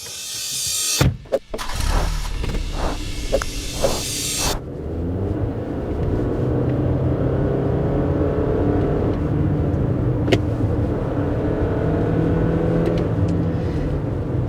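A Toyota RAV4 with a 2.5 litre Dynamic Force four-cylinder petrol engine drives along with a steady, droning engine hum heard from the cabin, after a few brief clunks and a burst of rushing noise at the start.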